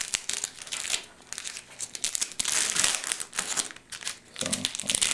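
Masking tape peeled off a car door panel, a run of crinkly, tearing rips in quick irregular bursts, close and fairly loud, with no voices.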